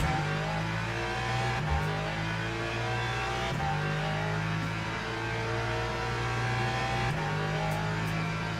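A GT3 race car in Le Mans Ultimate drives at night with a loud, sustained engine roar, punctuated by several quick gear-shift dips and re-climbs in pitch.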